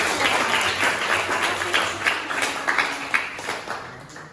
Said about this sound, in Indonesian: Oke, kasih tepuk tangan buat kelompok.